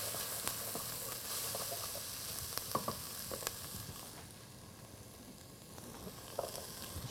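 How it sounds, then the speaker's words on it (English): Onions and chicken pieces sizzling in a pan for white chicken chili, with a steady hiss of frying and occasional stirring clicks close by, no talking. "Stir it up a little bit."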